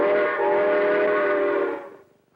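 A voice imitates a train whistle, a single sustained tonal hoot lasting about two seconds before trailing off, close and fairly loud with no other talk.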